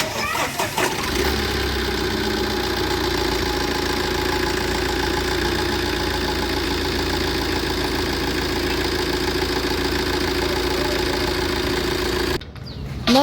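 Diesel engine idling steadily and loudly throughout during an engine oil flush, a continuous droning run that cuts off abruptly near the end.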